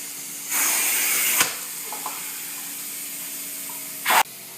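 Carpet cleaning machine spraying an acid rinse into saturated carpet and pad: two loud bursts of hissing spray, a longer one near the start and a short sharp one near the end, with quieter machine hum between.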